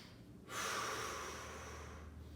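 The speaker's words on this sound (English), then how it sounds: "Nice big breaths here." One deep, forceful breath drawn in and pushed out during a bodyweight glute and hamstring workout, close and fairly loud, held for about a second and a half after a quiet start.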